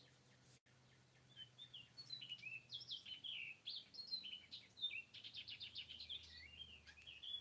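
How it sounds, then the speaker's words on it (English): Faint birds chirp and trill in quick repeated phrases over a quiet background, several calls overlapping at a distance. "I'm going to listen to the birds"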